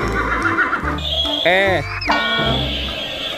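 A zebra calls with a loud, wavering neigh-like whinny and rising squeals in the middle, over a busy, noisy background.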